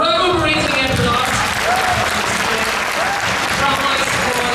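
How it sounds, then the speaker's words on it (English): Loud reverberating applause from an audience honoring the cast and crew of a stage drama at a temple event, sustained clapping with voices and musical tones running underneath. "let's give them a reverberating applause"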